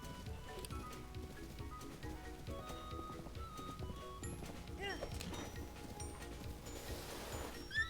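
A horse in Zelda: Breath of the Wild clip-clops steadily along with game ambience and small chimes around it, while a player's voice talks over parts of it.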